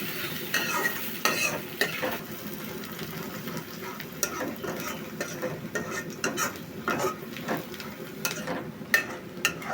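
Goat meat sizzles in a hot pan as it is stir-fried until browned, a steady frying hiss with frequent scraping and clacking of a spatula against the pan, close and continuous.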